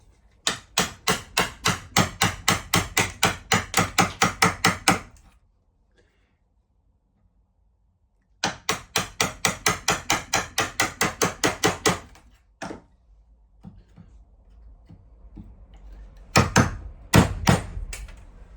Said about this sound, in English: I think I'll just go and chisel it out.